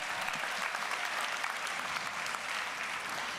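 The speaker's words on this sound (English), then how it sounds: "All of our parents, give yourselves a hand clap." A graduation ceremony audience at Tyner Academy applauds in a steady, dense wash of hand claps that holds at an even level throughout, with no voices breaking through.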